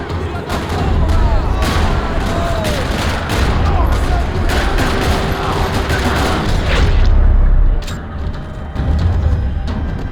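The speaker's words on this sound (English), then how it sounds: "Another parking lot rattling with gunfire." Video game gunfire in a parking lot from Max Payne 3, with rapid overlapping shots and bursts crackling over low booming rumbles, loud and nearly continuous, with a brief lull near the end.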